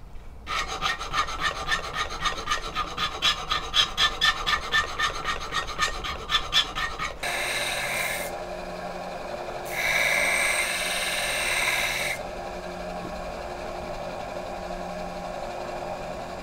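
A hand file rasps against the tip of a steel spoon being shaped into a broadhead, with quick, rhythmic close strokes for several seconds. Steadier grinding-like passes follow.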